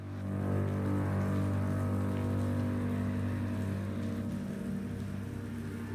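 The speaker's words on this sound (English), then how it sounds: "added some wind over it, added some rain effects." Rain and wind effects layered over an edit, a steady loud wash of rainfall with a low continuous rumble and hum running evenly throughout, no voices.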